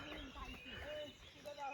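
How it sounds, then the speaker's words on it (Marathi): Several birds calling with short chirps and whistles in quiet open forest air near Kankeshwar temple, Alibag, faint and somewhat distant, with a person speaking softly over them. "खूप सुंदर वाटते इकडं पक्ष्यांचे आवाज बघ"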